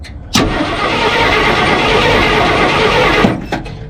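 A 1968 Ford F100 junkyard truck engine cranks over steadily for about three seconds, a loud, close, even churning drone that starts and stops abruptly, with no speech over it.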